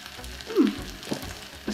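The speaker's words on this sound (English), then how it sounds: "Can you hear the sizzle, guys?" Brief, soft sizzling of corned beef frying in a pot, with a light stirring scrape.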